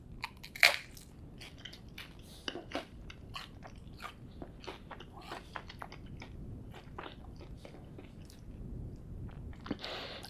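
Crunchy bites into buttered toast spread with Pip and Nut peanut butter, a sharp crunch near the start followed by steady close chewing and smaller crunches, with no talking.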